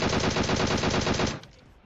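Rapid automatic gunfire from PUBG Mobile gameplay rattles in a dense, loud, continuous burst for over a second before cutting off abruptly into quiet.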